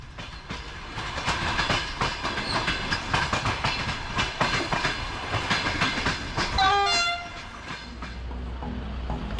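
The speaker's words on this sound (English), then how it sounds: "on board a high-speed Eurostar train" High-speed Eurostar train travelling from Paris, with continuous rolling rumble and rhythmic wheel clatter, then a short tonal horn-like sweep near the end before the rumble settles into a steady low drone.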